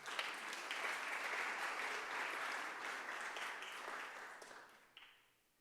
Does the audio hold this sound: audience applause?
yes